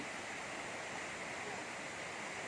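Khlong Lan waterfall in Kamphaeng Phet, Thailand, pours steadily with a dense, continuous rushing roar of falling water that stays even and unbroken throughout, with no clear voices over it.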